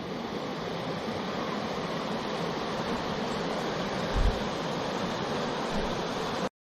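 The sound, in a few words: waterfall flowing into a basin along a creek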